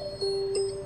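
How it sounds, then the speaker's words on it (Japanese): Incoming call ringtone inside a Renault Clio cabin, heard as a short steady electronic tone that holds briefly at moderate level in a quiet interior. "はい、電話が来てますね。"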